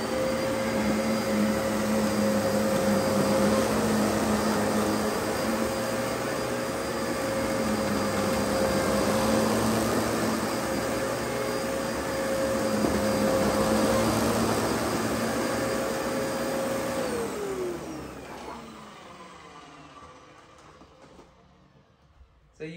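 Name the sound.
Dyson upright vacuum cleaner vacuuming carpet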